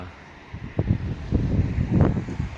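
Gusty outdoor wind buffeting the microphone in low rumbling surges that swell and fade, loud and close, with no clear voices.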